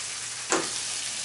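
A Cuban sandwich of mojo pork and melting cheese toasts in a sandwich press, giving a steady, close sizzling hiss with one brief louder crackle early on.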